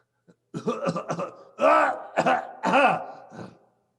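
A string of rough, breathy vocal bursts, several short ones followed by longer strained coughs, close and fairly loud with no talking.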